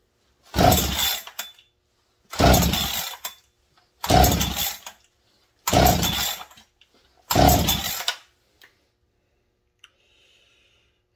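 A Husqvarna 372 chainsaw is cranked by its pull starter for a compression test, throttle wide open and decompression valve out. Five rough, whirring cranking bursts come close and loud at even intervals, separated by silence, with no speech.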